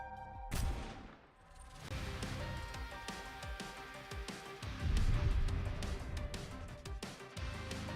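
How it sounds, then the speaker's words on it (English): Gunfire rings out in the NIKKE video game, with a sharp shot followed by dense rapid bursts of fusillade over game music. "Other raptures in the area heard the gunshot and are converging."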